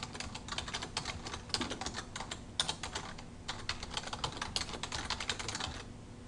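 Typing on a computer keyboard: rapid, close-up bursts of plastic key clicks with brief pauses between words, continuing steadily for about six seconds with no talking.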